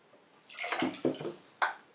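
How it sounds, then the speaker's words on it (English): Hot water is poured into a bowl while making homemade playdough. A few short splashing gushes sound close and fairly quiet in a still room. "Now the water is hot, so I'm going to have to pour the water for you"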